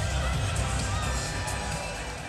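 A dense, steady roar from a stadium crowd at an arena football game fills the space, a loud, unbroken wash of cheering that eases off slightly toward the end.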